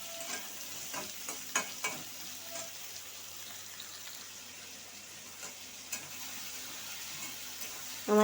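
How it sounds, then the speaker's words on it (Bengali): Taro root frying in oil with salt and turmeric sizzles steadily, with occasional clicks of a spoon stirring the pan, close and continuous, and a brief louder knock at the very end. "তো আমি কচুরগাঠিটা একটু ভেজে নেব।"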